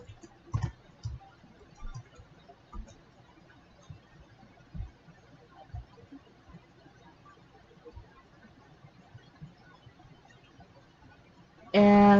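Computer keyboard being typed on and clicked: sparse, faint, close clicks and taps scattered at irregular intervals over quiet room tone, with a sharper click near the end.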